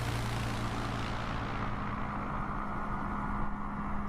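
A simulated aircraft in Microsoft Flight Simulator takes off during an eSTOL short-takeoff competition, its engine a loud, steady droning roar that holds without a break throughout. No voices.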